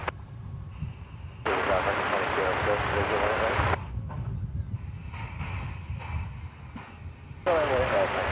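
Jet airliner rolling for takeoff on runway 18 left at DFW Airport, a broad roaring rush that swells and drops in waves, mixed with crackly air-traffic radio chatter and talk.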